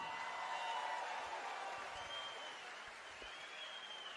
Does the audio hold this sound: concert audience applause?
yes